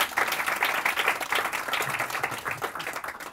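An audience at a live comedy and music stage show claps for a performer's entrance, a steady, dense round of applause that fills the whole stretch at full strength.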